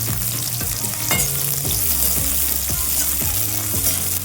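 Bitter melon slices fry over a high flame in a pan, giving a steady, close hiss of sizzling oil broken by repeated scraping stirs, with no voices.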